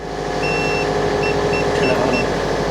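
A faulty electric scooter sends out short, high electronic beeps in an irregular series over a steady low mechanical drone.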